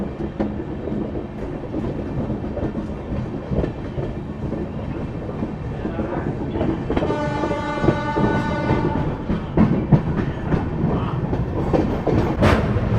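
An Amrit Bharat Express train rumbles along the rails near Varanasi's Kashi station on the approach to the Ganga crossing, with a steady clatter of wheels and a sustained horn blast partway through, heard from on board.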